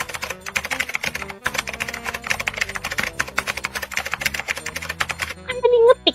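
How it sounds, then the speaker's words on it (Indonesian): Fingers type rapidly on a computer keyboard, a dense, close run of key clicks with brief pauses and a short tone near the end. "Aku buka Google, aku ketik ya, mukjizat Nabi Muhammad"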